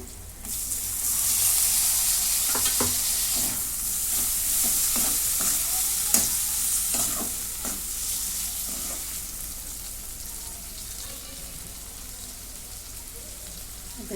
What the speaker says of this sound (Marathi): याच्यामध्येच मी जास्त मसाला टाकून घेते आता टॅमॅटो